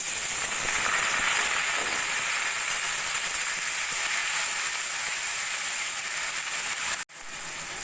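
Soaked masoor dal dropped into hot oil with tempering spices hisses in a steady, loud sizzle that runs almost unbroken, with a brief dropout near the end.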